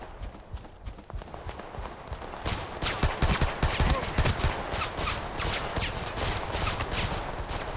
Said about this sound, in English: I don't know where all this pistol fire is coming from.